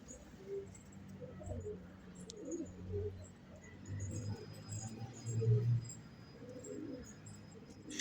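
Pigeons coo softly and repeatedly inside a coop, with low, rolling calls rising and falling over a quiet background hum.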